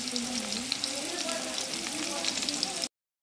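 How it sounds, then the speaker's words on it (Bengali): Potatoes fry in a pan with a continuous, close crackling sizzle and faint stirring, the steady hiss running evenly before cutting off abruptly. "দেখো এখানে আমার আলুটা ফ্রাই করা হচ্ছে। তো ফ্রাই হচ্ছে আমার আলু"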